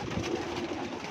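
Breeder pigeons coo in a soft, low, continuous murmur close by, with no voices.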